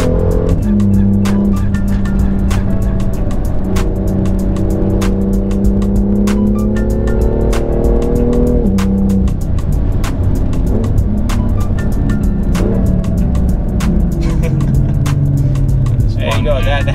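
A BMW M2 in Sport mode is driven hard on twisty back roads, its engine loud and close as it revs up and shifts, with tires squealing through corners and a voice talking over the steady roar.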